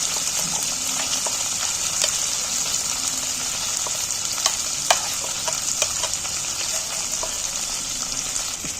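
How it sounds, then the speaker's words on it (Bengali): Yardlong beans fry in oil as a spatula stirs them, producing a steady close sizzle with scattered sharp clicks and scrapes of the utensil against the pan, and no voices. "নাড়াচাড়া করতে করতে বরবটিগুলো আমার ভাজা হয়ে গেছে"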